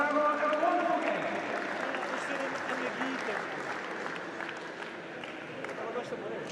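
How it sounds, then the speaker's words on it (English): Applause from a crowd at a korfball league final, loud at first then tapering off to scattered clapping, with voices mixed in. "A round of applause for everyone."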